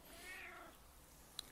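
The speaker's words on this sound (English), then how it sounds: "That's my cat Lazy Bones in the background" A cat gives one short, drawn-out meow faintly in the background, followed by a small tick, with no talking.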